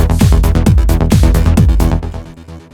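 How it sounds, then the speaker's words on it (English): Trance production loop built from sampled kick, bass, hi-hats and claps: punchy kicks with pitch-dropping thumps pulse steadily under a driving bassline and bright ticking hats, loud and upfront, fading out near the end. "All the kick and the bass and the samples sounds like this."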